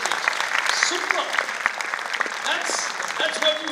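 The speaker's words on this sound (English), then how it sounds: "they deserve an applause for just what they did on stage" Audience applause for finalists at the TCS InQuizitive 2024 quiz regional finals in Ahmedabad, a steady wash of clapping with occasional voices and cheers mixed in throughout.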